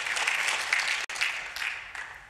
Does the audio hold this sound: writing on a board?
no